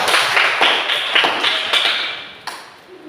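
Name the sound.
class of students clapping hands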